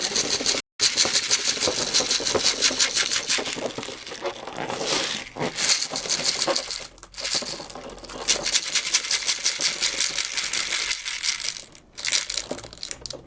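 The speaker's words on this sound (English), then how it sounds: "And now we can get our filling into the balloon." Filling being poured into a balloon for a craft, heard as a continuous granular crinkling and pattering rush, fairly loud and close, broken by a few brief pauses, with no talking.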